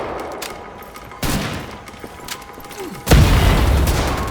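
A double-barrel shotgun fires in a first-person shooter game, two loud separate blasts with sharp attacks and booming tails, the second harder and heavier.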